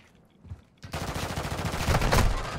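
Video game gunfire breaks out after a quiet moment, turning into a loud, sustained stream of rapid automatic shots with heavier bursts near the end, close and dense.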